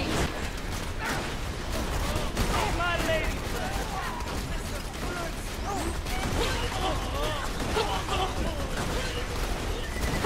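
Dense, continuous gunfire and explosions crackle through a Borderlands 2 co-op firefight, rapid overlapping shots and impacts filling the scene, loud, with players talking over the action.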